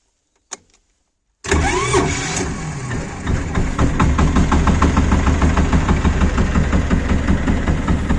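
A homemade chaff cutter's engine cranks and catches after a short knock and a second of silence, then runs loud and steady with a rhythmic, slightly knocking mid-pitched drone.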